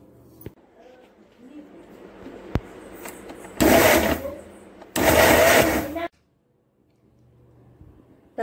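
A mixer grinder grinding coconut runs in two loud, harsh bursts of a couple of seconds each, separated by a short pause, with quiet background noise around them.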